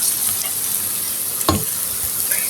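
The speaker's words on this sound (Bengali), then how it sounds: "আমি এভাবে সবগুলি ভেজে নিব" Jute leaf pakoras frying in hot oil make a loud, steady close sizzle, with one sharp knock of a utensil midway and a few faint scrapes, no talk.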